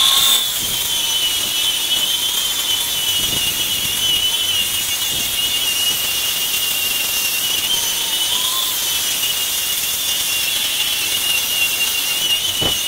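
A power sander works steadily across a custom-built wooden deck, grinding down nails and smoothing patched cracks. It gives a loud, continuous high whine that runs unbroken for the whole stretch, with no talking.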